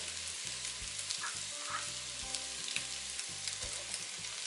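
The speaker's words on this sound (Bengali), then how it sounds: "গাজর আর বরবটিটা আমি আগে দেব। এটা আমি কিছুক্ষণ নাড়বো।" Carrots and long beans stir-fried in a pan for Bangladeshi-style fried rice give a continuous close sizzle, with a low tonal hum running underneath and no talk.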